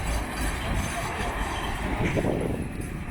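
A rumbling tram crossing a bridge rolls past with a low mechanical roar and faint rail clatter, steady throughout, heard from outdoors at moderate distance.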